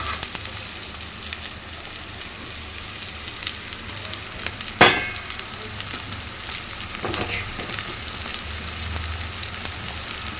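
Chicken pieces fry in a pan of gongura curry, a steady close sizzle with a couple of sharp clatters or stirring knocks partway through, no talking.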